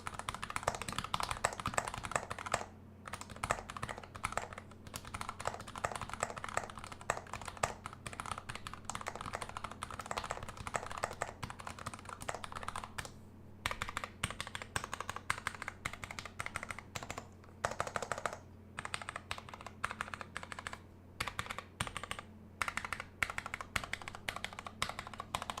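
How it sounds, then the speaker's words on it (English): Continuous typing on an ALPS64 3D-printed mechanical keyboard with PCB-mounted retooled black switches, dense rapid clacking with brief pauses, close and steady over a faint background hum. "I can type so you guys can hear it."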